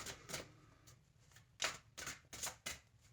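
Tarot cards shuffled in quick riffling bursts, about six or seven sharp papery flurries in a row, close and fairly quiet, with no voices.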